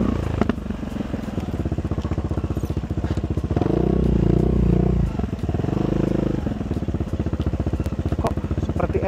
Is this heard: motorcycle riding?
yes